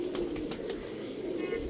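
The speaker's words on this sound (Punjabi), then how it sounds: "ਇਹ ਚੈੱਕ ਕਰੋ ਇਹ ਕਬੂਤਰ ਬੈਠਾ ਜੀ" A baby pigeon coos softly and repeatedly at close range, with a few faint chirps over a low, steady background hum.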